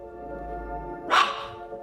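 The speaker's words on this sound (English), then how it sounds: "the dog is barking at a ghost" Single sharp yap from a small Pomeranian dog rising out of a steady low hum, close and fairly loud.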